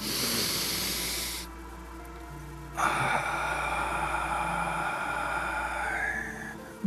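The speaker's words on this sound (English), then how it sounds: "Nice deep breath in through the nose" Slow, deep breaths drawn in through the nose and let out again, a soft breathy hiss that stops briefly and then swells into a longer, louder inhale, close by and without speech.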